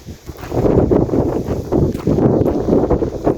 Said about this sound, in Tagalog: Today ay napaka hangin, sobra.